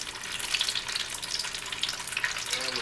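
Fried peach pies sizzling in hot frying oil, a steady close crackle with fine pops throughout, no voices.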